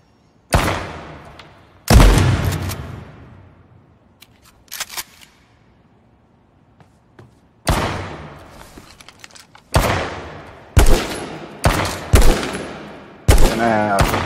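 Gunfire in the video game H1Z1, loud bursts of rapid shots and single cracks spaced across the scene, with quieter gaps and faint distant shots between them.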